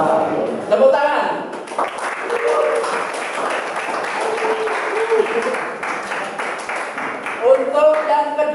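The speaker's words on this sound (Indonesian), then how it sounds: "Tepuk tangan." An indoor audience claps after a presentation, a steady, full round of applause lasting several seconds, with a voice speaking briefly before it begins and again as it fades.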